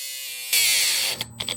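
Right angle die grinder whining steadily, then jumping to a loud high-pitched scream under load before bogging down and sputtering off in a few brief bursts, close up with no talking.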